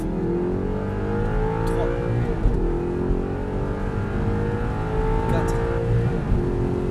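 An Audi R8 race car accelerating at full throttle on a circuit, its engine note rising steadily through the revs with a brief shift, loud and close from inside the cockpit, while an instructor calls out counts.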